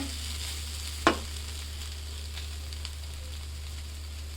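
Rice frying in a pan for pulao, a faint steady sizzle under a constant low hum, with one sharp clink of a utensil against the pan near the start.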